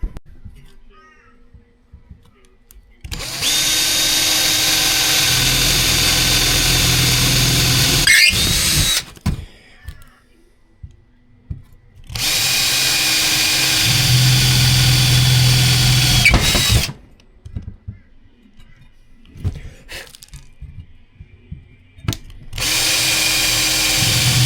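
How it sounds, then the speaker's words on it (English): Power drill boring holes during a kitchen installation, close and loud, running in three long bursts of several seconds each with quiet pauses between them. "So I'll drill some holes there and I'll test my theory"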